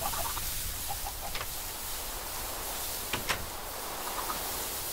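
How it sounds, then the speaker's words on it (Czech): Chicken in Minecraft, a few short clucks heard over steady background hiss of the game, with a couple of brief sharper clicks midway. "Jo, to je vlastně malé kuře"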